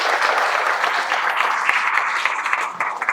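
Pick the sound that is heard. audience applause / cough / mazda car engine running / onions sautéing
audience applause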